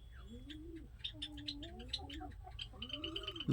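Several Giribaz flying pigeons coo and chirp close by in soft overlapping calls, with light background noise.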